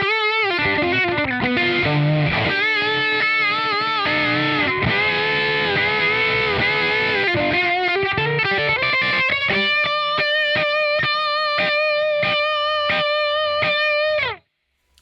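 Electric guitar played through a Crazy Tube Circuits Hi Power overdrive pedal, first sustained distorted chords, then a run of crisp picked notes and chords, loud throughout before stopping abruptly near the end.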